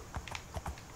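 Horse hooves clip-clop in a horse race video game, several quick, faint, close hoof knocks in an uneven rhythm over a steady background hum, with no talking.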